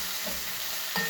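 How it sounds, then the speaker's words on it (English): Lamb shank sautéing in a hot pan with thyme and rosemary sprigs hisses in a steady sizzle, and a brief stir or scrape of the pan breaks through near the end. "By starting to saute with those aromatics in there"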